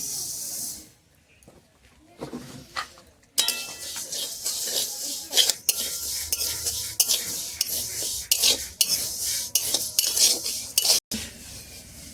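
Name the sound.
moong dal being dry-roasted and stirred in a pan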